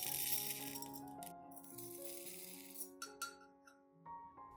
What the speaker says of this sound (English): I add 3 tablespoons of rice into a clean glass cup.